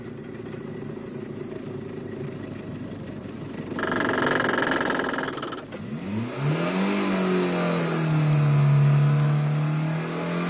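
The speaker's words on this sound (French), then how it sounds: "votre voiture est à 10 à l'heure, elle ne peut pas monter" A car engine labouring in third gear at walking pace on an uphill road during a 1973 driving lesson, a steady mid-pitched drone that swells louder and then lugs with a low, wavering tone, no voices over it.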